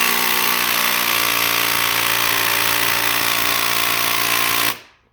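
A Milwaukee power tool runs at full speed during the teardown of a 1979 Squarebody C10 truck, a loud, steady, whining drone that holds for several seconds and then cuts off abruptly.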